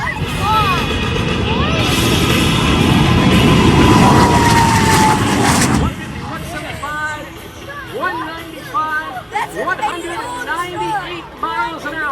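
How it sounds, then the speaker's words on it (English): Airplane on its takeoff roll at the Lake Cumberland air show: a loud, building engine roar with a rising tone dominates first, then drops away, leaving crowd chatter and nearby voices. "Let's watch and listen as Dave Motter prepares to take off"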